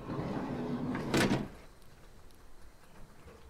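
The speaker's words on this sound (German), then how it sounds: "Dann kann ich die Türen aufmachen." Baggage car doors open in the Train Simulator Classic game, with a short mechanical clunk and sliding rush about a second in, followed by quiet ambient rumble.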